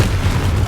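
A Confringo fire spell bursting in Hogwarts Legacy, heard as one short, loud, deep boom with a rumbling low-end blast.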